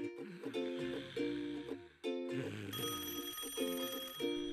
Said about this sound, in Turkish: Sana bir telefon var.